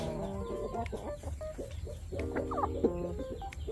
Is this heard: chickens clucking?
yes